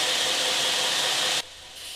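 A dull steel drill bit is held against a spinning grinder for old-school sharpening, a loud continuous grinding rasp that cuts off abruptly near the end, leaving a quieter hum.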